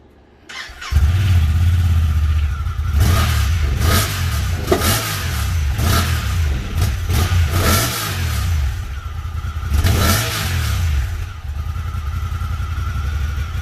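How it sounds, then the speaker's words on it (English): A Honda Talon side-by-side with its stock exhaust, engine cold on a chilly day, starts up and idles with a low rumble, then is revved in several sharp, loud throttle blips that rise and fall, close up with no talking. "It's cold right now, so we'll see how she revs."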